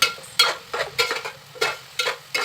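Cabbage curry stirred and mixed in a pan at home, a spoon scraping in repeated sweeping strokes with short gaps between them, loud and close with no talking.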